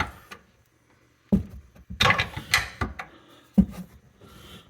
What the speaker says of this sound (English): Then you get your wrench up in here. It's just a matter of putting a little leverage on it, working it off.